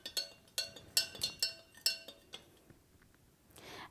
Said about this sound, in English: And you start stirring up your salt.